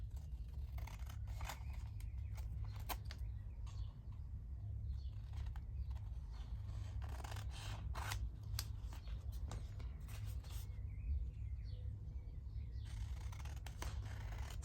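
Scissors snip through paper ephemera at close range, a series of crisp cuts and rustles over a steady low hum, with no voices.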